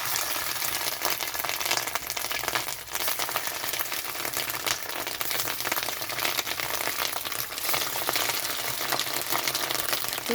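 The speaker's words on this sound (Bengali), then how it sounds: "তো এখানে আমি ডিমগুলো ছেড়ে দিচ্ছি ভাজার জন্য।" Fish roe dropped into hot mustard oil in a kadai fries with a dense, continuous crackle and rapid tiny pops. The sound is moderately loud and unbroken, with no speech.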